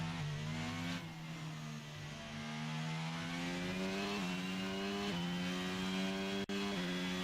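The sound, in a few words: F1 22 race car engines, from a video game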